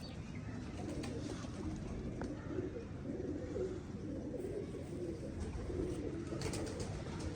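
Pigeons, a keen fancier's performing birds, coo softly and repeatedly at a low, murmuring pitch against a quiet, steady background, with no voices over them.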